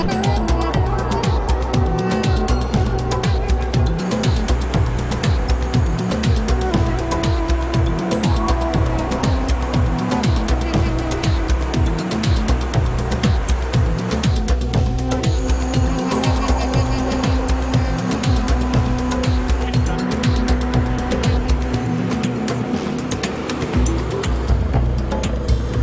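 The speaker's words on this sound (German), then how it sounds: "Ja, zum Verkehr hatte ich ja schon gesagt, es ist nicht ganz so einfach in Istanbul." Busy street traffic in central Istanbul forms a dense, loud wash of car engines and passing vehicles, with repeated revving and continuous roadway rumble throughout.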